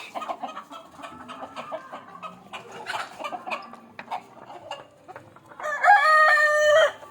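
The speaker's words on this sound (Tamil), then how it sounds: "எல்லா கோழியும் வீட்டுக்குள்ளேயே வந்துட்டு" Chickens cluck and bustle close by, indoors in a house, and near the end a rooster lets out one loud, drawn-out crow that rises above the flock.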